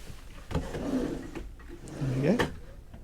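Drawers in a Burstner Lyseo TD 727 G motorhome slide open and shut close by, giving two rising runner whirs with soft knocks and clunks, and a voice can be heard speaking faintly beneath them.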